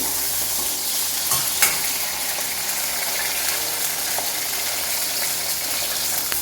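Eggplant pieces fry in a generous amount of oil, giving a steady, close sizzle with occasional stirring clinks and scrapes throughout, no voices.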